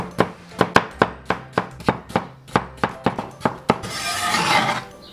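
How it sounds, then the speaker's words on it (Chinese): A knife chops stacked potato slices into thin shreds on a board: about a dozen sharp, evenly spaced close thuds, then a short burst of rasping scraping at the end, with no voices. "好的土豆片给码平，我们改刀把它切成细丝"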